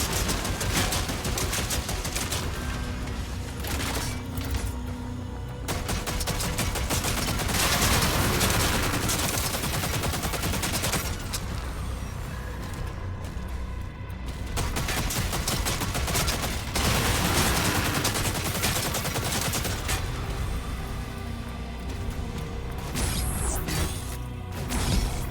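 Gunfire in the video game DOOM: The Dark Ages: long, dense bursts of rapid shots and heavy mechanical impacts, loud and continuous, broken by brief lulls and crashes, with no talk.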